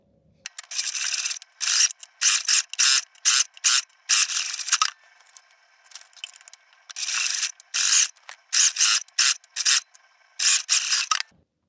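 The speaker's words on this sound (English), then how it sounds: "we're going to take this over to the sewing machine, and we're going to baste these zippers on" A sewing machine whirs in short bursts basting zippers onto fabric, stopping and starting again and again, with a dry rasping mechanical texture up close and silence between runs.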